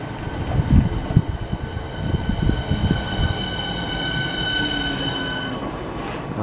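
A train rolls through St John's station, wheels clattering at first and then a long steady rumble with a high metallic squeal carrying on above it.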